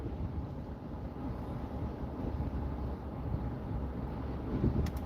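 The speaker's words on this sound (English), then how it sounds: "like this wind is just ridiculous though. It's doing too much right now." Strong wind blowing outdoors, a steady low roar and buffeting against the microphone that stays constant throughout, with no talking.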